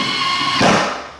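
A power drill bores a pilot hole into a door while a cat door is being fitted, a short steady motor whine that swells into a rougher grinding burst as the bit bites, then winds down and stops.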